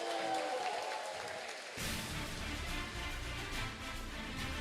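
Round of applause from a congregation at an online church service on child-rearing, starting softer and swelling into a dense, continuous wash of clapping after about two seconds.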